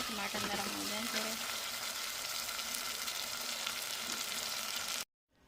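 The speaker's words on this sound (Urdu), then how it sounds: "مسالہ ہمارا اچھے سے بھون لیں، ٹماٹر نرم ہو جائیں تھوڑے۔" Masala and tomatoes fry in a pan with a steady, close hiss and crackle that holds for about five seconds, then cuts off abruptly into silence.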